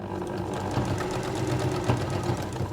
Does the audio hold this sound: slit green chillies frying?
no